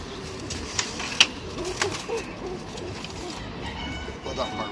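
Homing pigeons coo softly among a loft flock, low murmuring calls over a busy background of shuffling and chatter, with a few sharper chirps and knocks.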